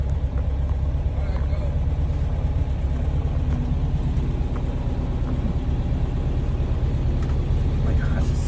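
A restored vintage Porsche 356 engine idles smoothly, a steady low rumble heard from inside the car, with people talking over it.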